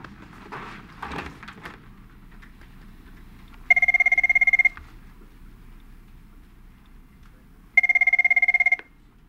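A telephone rings twice in an office setting, two clear electronic bursts about a second long each, separated by a few seconds of quiet, following some brief muffled movement at the start.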